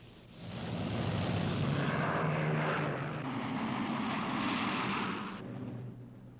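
Piston-engined Boeing B-17 Flying Fortress bombers taking off from an English aerodrome, a broad, steady, loud roar of engines that swells quickly, holds for several seconds and then eases off slightly, with no voices.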